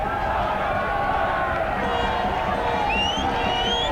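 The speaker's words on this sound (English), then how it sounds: "Great crowd." A large stadium crowd at the 1994 men's field hockey World Cup final in Sydney, Pakistan against the Netherlands, keeps up a steady, distant roar and cheer, with a commentator talking over it.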